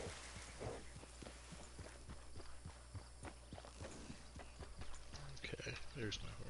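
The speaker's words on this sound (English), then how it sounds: "there's my horse" Horse hooves clip-clop in the Red Dead Online video game, a steady run of evenly spaced hoofbeats close up over a constant background hum.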